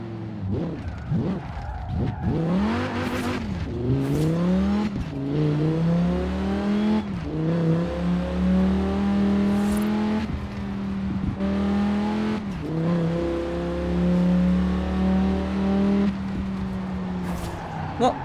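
A Quadra car races in the video game Forza Horizon 4, its engine loud and continuous with repeated rising pitch sweeps through the gears and brief tire skids, and no talking over it.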